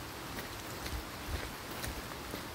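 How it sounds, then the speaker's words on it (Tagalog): Steady heavy rain falls on a mountain hiking trail at Mt. Parawagan in Rodriguez, Rizal, a dense continuous hiss with scattered nearby drops and no voices. "Kasi lakas ng ulan eh."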